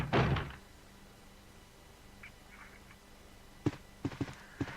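A locked door being tried in a Resident Evil video game: a soft thump first, then a quick series of sharp rattling knocks and clunks as the handle is jiggled, fairly close in a quiet room.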